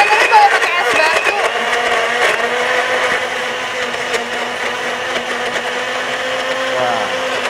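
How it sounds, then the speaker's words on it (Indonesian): An electric kitchen blender runs steadily throughout, whirring loudly while making fruit juice for a health drink, its motor drone constant and close with no talk over it. "Langsung blender di ya. blender."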